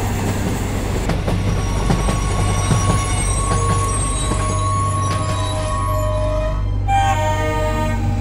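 A train pulls into a station platform at night, with a continuous rumble, rattling wheels and metallic squeals building over several seconds, then a brief horn-like tone near the end.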